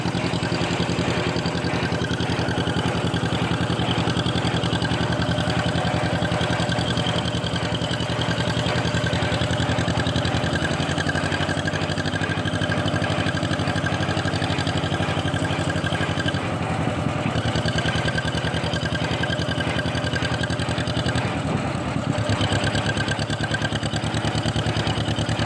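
An old restored tractor engine runs loud and close throughout on its first drive, a steady rough chugging idle with no pauses.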